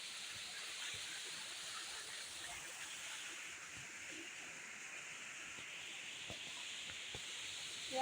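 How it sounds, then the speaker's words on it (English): A big waterfall in Karura forest pours in a steady, unbroken rushing roar of broadband hiss that holds at an even loudness from start to finish. "Yeah, we have a big waterfall."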